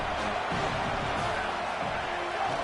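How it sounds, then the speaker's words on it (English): Football stadium crowd at an Ohio State versus USC game roars in a dense, continuous wash of noise, sustained and fairly distant. "The roar of the crowd trying to fuel this defense to keep them pinned in their own end."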